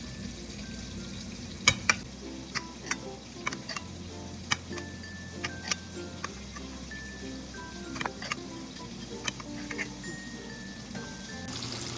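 Milkfish (bangus) frying in hot oil gives a steady, close crackle and sizzle, with sharp pops scattered throughout over a low background hum.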